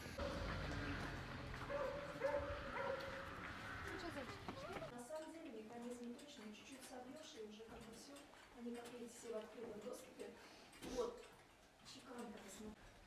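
A tagged stray dog in a Russian village barks and yips in short bursts with a faint whimper. People talk and the outdoor setting is busy throughout.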